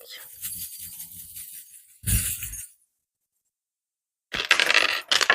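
Small metal charms clink and rattle as a hand picks them up, in a few short jangling bursts broken by a brief silence, close and fairly crisp with no talking.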